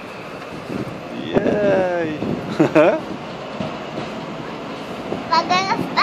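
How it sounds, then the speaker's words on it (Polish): A train rolls through a station with rumbling wheels and squealing, screeching tones rising and falling, while a child and an adult talk excitedly nearby. "Jedzie pociąg."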